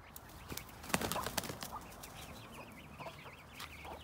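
A month-old chick calling near a pair of squabbling hens outdoors, with several short sharp peeps and clucks scattered over a faint background.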